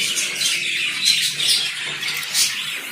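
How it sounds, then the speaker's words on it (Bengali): A breeding pair of grey parrots at a bird market gives repeated harsh squawks and calls, close and fairly loud, over a faint background murmur. "এখানে এক পেয়ার গ্রে আছে ব্রিডিং পেয়ার"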